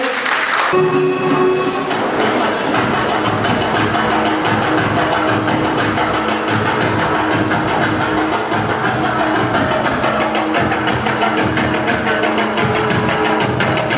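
An audience at a girls' life-building camp in Vashi gives loud, sustained applause, a thick unbroken roar of clapping from many hands that stays at full strength throughout.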